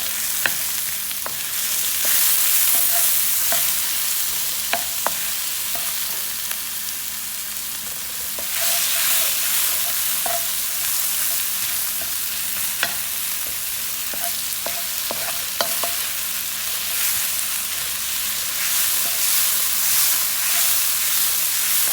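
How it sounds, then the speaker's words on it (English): Onions and garlic sauté steadily in a pan for vegetable spring rolls, a continuous broadband sizzle with scattered sharp pops and spoon scrapes as they are stirred and broken up, loud and close without any talk. "And you wanna saute these until they're nice and tender."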